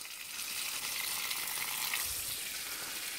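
Rainwater pours steadily from the outlet of a full rain barrel at a greenhouse catchment, a constant close rushing splash with no talk.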